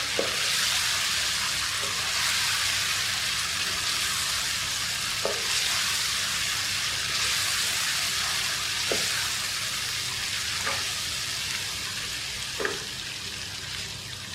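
Chicken being mixed with masala in a cooking pan, giving a steady close sizzle of frying with occasional scraping clicks from stirring, no talking.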